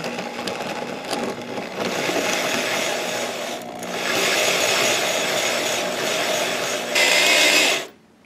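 An annular cutter bores into a steel rifle barrel at low speed, producing a steady, loud grinding and rasping that runs continuously, swells in intensity and then stops abruptly.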